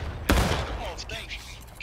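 Musket volley in War of Rights, a 150-player American Civil War battle event: one loud crack bursts out and rolls into a long reverberant tail, with scattered distant shots and voices further back.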